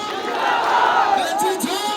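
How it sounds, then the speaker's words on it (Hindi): A rally crowd in Karakat roars a 'kainchi chhap zindabad' slogan for the scissors election symbol, a dense, continuous wall of raised voices and shouts that stays loud for the whole two seconds. "हाथ उठा के ताली बजा के कैंची छाप जिंदाबाद कर दे जा भैया"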